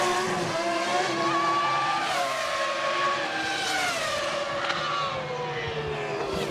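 A 1999 Formula 1 Ferrari race car leaves the pits as another car comes round on the outside: loud, high engine whine sweeping down in pitch as cars pass close by, with no talk.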